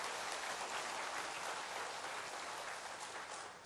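A church congregation applauds the choir during a Sunday service, a sustained wash of clapping from many hands, fairly distant and even throughout.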